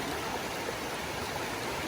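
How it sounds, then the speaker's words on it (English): A cold mountain stream swollen by rainfall rushes close by, a steady, loud, unbroken roar of churning water with no voices. "Mountain stream"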